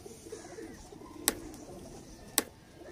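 A Salara teddy pigeon coos softly at close range, low murmuring calls beneath two sharp, isolated clicks, otherwise quiet with no speech.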